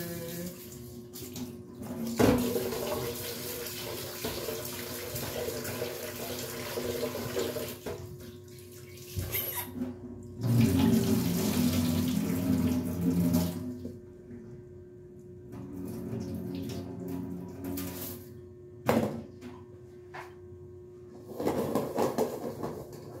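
Water pours steadily from a tap, with a few clunks and splashes as containers shift, stopping and restarting in bursts.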